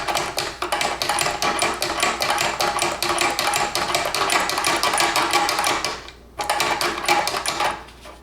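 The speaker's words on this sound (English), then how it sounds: "And hopefully start cranking out Cavatelli." A hand-cranked cavatelli pasta maker clatters in rapid, regular ticking bursts as the dough is fed through, pausing briefly once before the cranking resumes, close and fairly loud.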